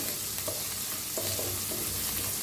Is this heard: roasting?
yes